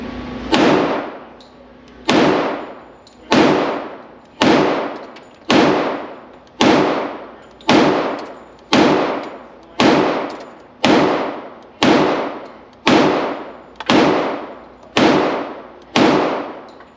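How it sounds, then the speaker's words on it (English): A Sig Sauer X Ten 10mm pistol firing 180 grain Blazer Brass rounds, about fourteen loud, sharp single shots at a steady slow pace, each followed by a brief echoing decay outdoors. "This time we're just going to shoot some Blazer brass,"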